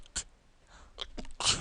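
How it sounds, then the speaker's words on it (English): A single person sneezes once, close and sharp, a sudden loud burst that follows a few quieter breathy and throat sounds. "I had to sneeze"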